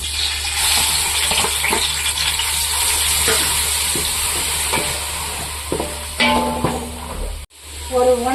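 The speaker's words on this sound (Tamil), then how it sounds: "அரைச்சி வச்ச சின்ன வெங்காயத்தை இப்போ எண்ணெயில் போட்டுக்கலாம்" Oil sizzles and crackles steadily as something fries in a pan, with a few stirring clinks near the end.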